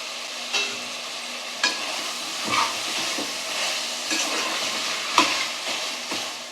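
Tomato and onion sauté in a pan for chicken biryani, a steady close sizzle and hiss broken by the occasional clack of a stirring spoon, with no one talking.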